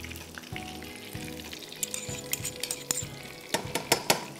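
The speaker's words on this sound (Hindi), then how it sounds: "वन टेबलस्पून हमने चॉप्ड गार्लिक डाल दिया" Chopped garlic sizzles steadily in a pan of butter and oil, a close, continuous fry broken by scattered metallic clinks and scrapes of a utensil stirring, with no voices.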